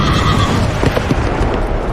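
A horse neighs loudly as a sound effect, a long shrill whinny over dense hoof clatter and rumble, filling the whole stretch with no voice on top.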